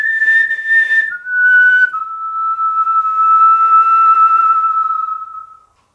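A single whistler holds a long-tone melody, stepping down through three sustained pitches with a short breathy start, then a long steady final note that fades out cleanly; close and clear, no talking.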